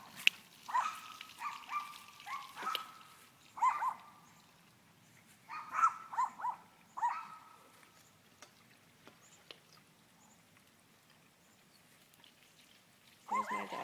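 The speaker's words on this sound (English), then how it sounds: "There's my dog." A dog barks in scattered bursts of two or three yips, moderately distant, with quiet gaps and soft pattering between.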